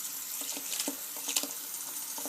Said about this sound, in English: It's taken 10 minutes of running this tap to actually get the hot water to come through.